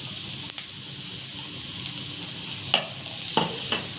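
Carrots and capsicum hitting a hot pan for a chicken kachori filling give a steady broadband sizzle, with a few sharp clinks and scrapes of stirring near the end.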